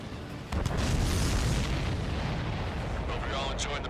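Heavy explosions rumble continuously in the flight combat game Ace Combat 7, a dense, loud roar of blasts with deep booming and crackling, sustained throughout.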